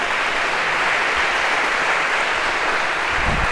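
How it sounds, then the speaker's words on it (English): A lecture hall audience applauds steadily for a volunteer called down to the stage, a dense, even wash of clapping that holds at full strength for the whole stretch with no voices over it. "round of applause for our one brave volunteer here."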